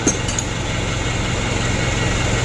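A car engine idles steadily nearby, a continuous low rumble with even mechanical vibration and no break over the short stretch, with no voices.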